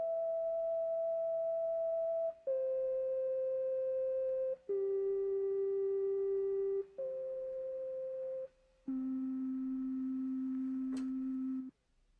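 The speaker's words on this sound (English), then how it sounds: "The sound of a sine wave is absolutely pure and flute-like." Pure synthesized sine tones, steady and flute-like, held one at a time for about two seconds each in a descending sequence of five pitches, with short gaps between them and a brief click near the end.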